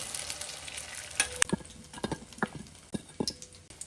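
Egg-dipped bread slices hitting hot oil, with a steady low sizzle broken by several sharp clattering knocks and scrapes of a utensil against the pan, close and fairly quiet, with no voices.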